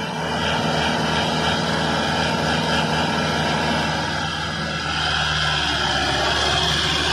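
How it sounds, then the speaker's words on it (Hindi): A 42 HP Mahindra 475 tractor runs steadily in first low gear around 2000 rpm while pulling a rotavator, giving a loud, continuous heavy engine drone with a low hum throughout and no talking. "पहले के लो में ट्रैक्टर चल रहा"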